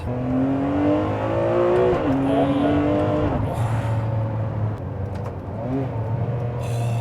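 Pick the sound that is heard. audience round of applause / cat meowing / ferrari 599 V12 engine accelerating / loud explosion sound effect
ferrari 599 V12 engine accelerating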